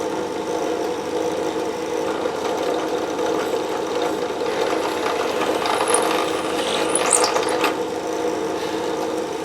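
A power drill whirs steadily with a grinding mechanical drone, with a few higher squeaks and clicks partway through, close and fairly loud, drilling holes in wood for a guitar neck.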